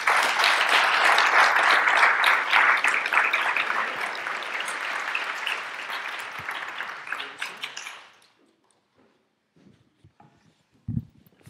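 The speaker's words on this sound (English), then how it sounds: "please give our panelists a round of applause" Audience applause for a panel of speakers at a conference session: loud, dense clapping fills the room for about eight seconds, then stops abruptly. Only faint scattered sounds and a thump follow.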